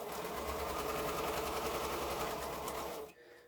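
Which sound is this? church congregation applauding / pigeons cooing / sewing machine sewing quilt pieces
sewing machine sewing quilt pieces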